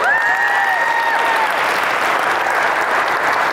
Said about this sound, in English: Also, give a round of applause for the All-In team.